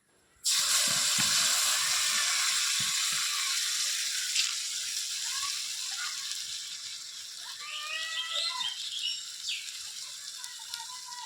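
A loud sizzle bursts up as ground spice paste hits a hot pan, then settles into steady frying hiss with faint scraping.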